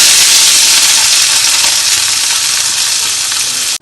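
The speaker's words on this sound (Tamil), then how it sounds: "இந்த ஒரு கப்பையும் பூண்டையும் போட்டு நல்லா வதக்கி" Garlic and dried red chillies fry in hot oil in a pan for garlic chutney, a loud, dense, continuous sizzle close by that cuts off abruptly at the end, with no talking.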